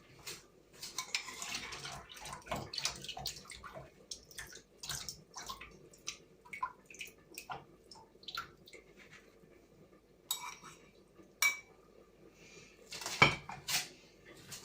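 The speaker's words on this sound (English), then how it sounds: "And now drain my noodles." Cooked noodles for chilli con carne are drained in a kitchen, with intermittent clanks and rattles of a pot and metal utensils plus some splashing water, arriving in irregular bursts close by, and no talking.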